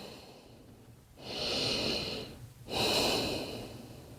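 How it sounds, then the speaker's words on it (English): Slow, audible breaths during a yoga forward fold, two long airy inhale-exhale swells close to the microphone with quiet pauses between. "holding and breathing here"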